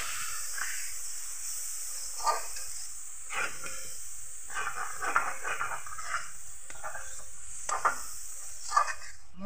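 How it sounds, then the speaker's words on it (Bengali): Moong dal frying with spices in a pan for a winter-vegetable khichuri, a steady hiss with soft intermittent scrapes and clinks of stirring throughout, fairly close and moderate in level. "মশলার সঙ্গে ডালটাকে ভালো করে কষিয়ে নেব।"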